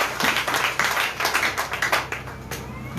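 A church congregation claps together in praise during a French-language worship service, a dense, steady run of hand claps filling the room with no voices standing out.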